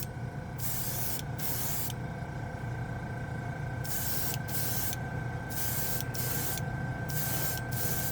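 An airbrush spraying paint onto a plastic model in slow, wet coats: a close, soft hiss in repeated bursts of varying length with brief pauses.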